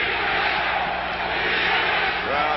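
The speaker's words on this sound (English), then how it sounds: "crowd coming to life a little bit now. The chant of defense." A stadium crowd at a 1987 NFL football game, Eagles at Giants, keeps up a steady, loud roar that swells into a sustained chant, dense and continuous across the whole span with no individual voices standing out.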